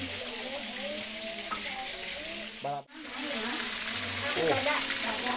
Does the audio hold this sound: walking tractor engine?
no